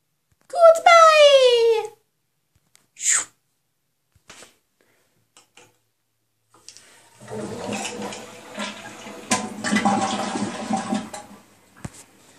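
A toilet in a cartoon-style animated scene flushes with a loud swirling rush of water lasting several seconds, preceded by a child-like squeaky voice and a short sharp effect.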